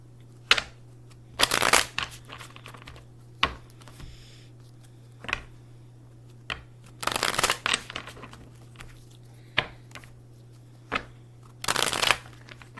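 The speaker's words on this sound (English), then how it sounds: "Let me get my cards shuffled real well." Tarot cards being shuffled in several quick riffling bursts, separated by soft taps and quiet gaps, close and fairly faint over a low steady hum.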